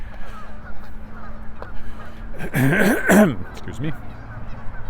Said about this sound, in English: I don't know what all that goose talk is about.